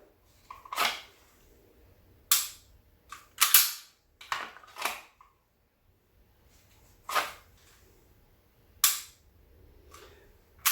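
Dry-fire trigger presses on an unloaded handgun: a series of crisp, isolated mechanical clicks, close and fairly loud, spaced irregularly with silence between them and a few quick clicks bunched together near the middle.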